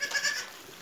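A dwarf goat gives a short, close, nasal bleat near its young kids, heard alone and fading quickly.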